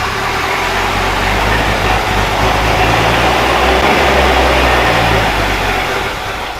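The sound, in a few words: Land Cruiser FJ40 engine cranking and running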